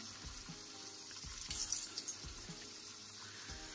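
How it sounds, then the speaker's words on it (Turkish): Potatoes frying in oil on a stovetop at the highest heat, giving a steady watery sizzle with soft pops and a brief louder burst midway, close and alone without voices. "Ocağın altı en yüksekte kızartıyorum."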